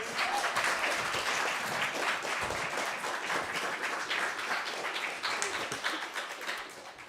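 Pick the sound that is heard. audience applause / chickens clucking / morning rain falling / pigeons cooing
audience applause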